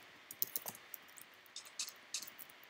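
Keys clattering on a computer keyboard during a Minecraft survival session, a quiet run of uneven clicks and taps in short bursts with brief pauses, close and faint.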